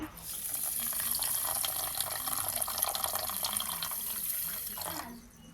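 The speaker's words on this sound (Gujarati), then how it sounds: "પછી આપણે એમાં પાણી નાખી દઈએ।" Water is poured from above into a pan of sugar to make syrup for Gujarati-style gulab jamun. It makes a steady splashing stream for about five seconds, then stops abruptly.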